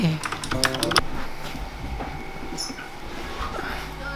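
Quick clatter of keys on a computer keyboard, a short burst of typing up close over a steady low room rumble, with the clicks fading into the background noise.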